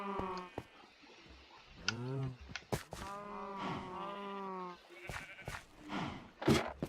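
Sheep bleat repeatedly in the Minecraft video game, several wavering overlapping calls of varying pitch with short clicks between them, fairly near and moderately loud.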